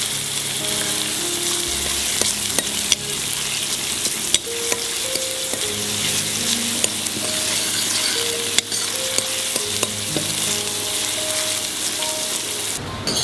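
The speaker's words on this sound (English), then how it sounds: "Saute it for some time." Vegetables for a lemon coriander soup sauté in a hot pan with a continuous loud sizzle, occasional stirring clinks and scrapes over it, close by with no speech.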